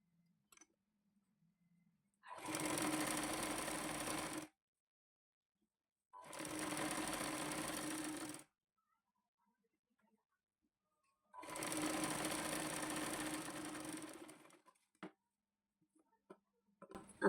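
Three separate runs of a sewing machine stitching a katori-style blouse, joining the back piece. Each run is a steady, clear whir of two to three seconds against a nearly silent room.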